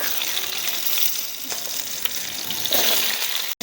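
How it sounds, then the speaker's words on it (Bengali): Pieces of pointed gourd fry in oil, making a continuous close-up hissing sizzle with slight surges in intensity throughout. "এবার পটলগুলো ভেজে নিব।"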